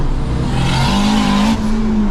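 A turbocharged DSG-equipped car accelerates hard, its loud engine tone climbing steadily through the rev range, briefly dipping at a gear change and then pulling again, close and dominant with no talk.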